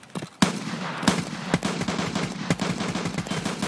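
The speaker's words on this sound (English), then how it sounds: "I shot and I killed a guy." Automatic gunfire in the video game Escape from Tarkov comes as sharp, loud bursts in rapid succession over a steady, dense background of shots, heard close with no talk.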